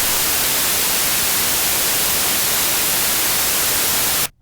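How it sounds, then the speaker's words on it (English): Steady, loud broadband white-noise hiss from a test oscillator in a recording session fills the clip evenly without variation, then cuts to silence at the end. "So we have our white noise."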